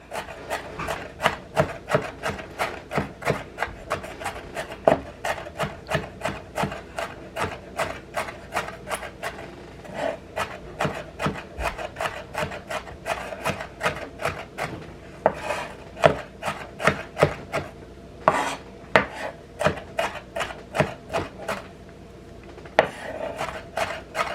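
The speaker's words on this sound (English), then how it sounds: "So just go ahead and take your knife and just give it a chop through." A knife chops through fresh pico de gallo ingredients on a wooden cutting board, a long run of steady, evenly spaced sharp thuds and scrapes close by, with no talking.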